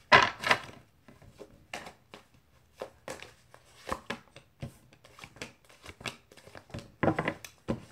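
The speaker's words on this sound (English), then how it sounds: "One last shuffle there" Tarot cards being shuffled by hand, a string of close, crisp riffling bursts and soft taps, irregular and fairly quiet, with brief pauses between them.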